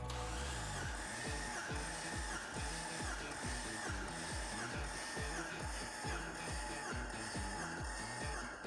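A Jeep engine cranking with the starter during a compression test: a steady, rapid, mechanical rhythmic chug that runs continuously at even volume for the whole stretch.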